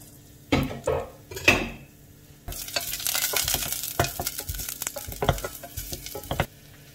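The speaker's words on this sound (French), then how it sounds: "Je mets un petit peu d'huile d'olive pour faire revenir l'ail." Garlic frying in olive oil in a pan, a few sharp clatters of utensil against pan at first, then a steady close sizzle with bursts of stirring and scraping, no voices.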